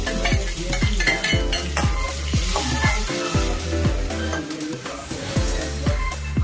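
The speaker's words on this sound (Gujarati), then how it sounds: "એને શેકાવા દઈશું થોડું. પછી ટામેટા અને મરચાં નાખી દઈશું." Crushed garlic roasting and sizzling in a pan, with a spoon stirring and scraping in a steady repeating rhythm over a continuous fry, close and moderately loud with no talk.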